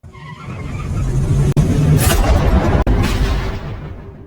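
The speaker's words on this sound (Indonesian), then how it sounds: "mengambil semua mobil polisi lalu kabur" A police car in a film tears away with skidding tires, a loud rising engine roar and tire squeal swelling to a peak, then receding, with two abrupt cuts in the sound.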